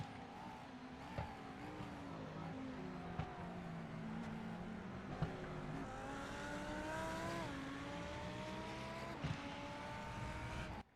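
Race car engine in a racing video game drones steadily with shifting pitch as one car passes another, punctuated by faint periodic clicks, heard alone without talk.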